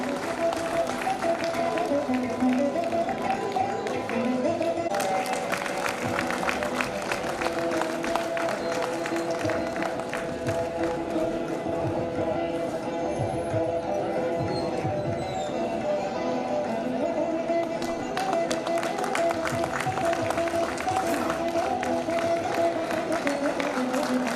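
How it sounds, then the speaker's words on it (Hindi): An audience applauds at the AGB Bank fifth anniversary event, with dense, steady clapping from a large crowd that carries on without a break for the whole stretch. "आपकी तालियां साथियों का हौसला बढ़ा रहा है"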